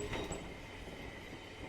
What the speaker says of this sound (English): I remembered that the train would enter the third tunnel soon